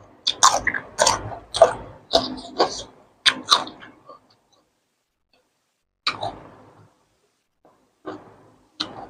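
Close, wet chewing and smacking on a seafood basil stir-fry with a fried egg, with irregular bites in quick clusters, then sparse pauses and a few later mouthfuls.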